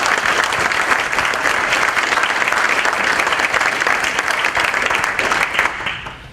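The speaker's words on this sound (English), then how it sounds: "Maybe we could give her a round of applause" An audience at an academic program gives Barb a round of applause, loud, dense, continuous clapping for several seconds that thins slightly at the end.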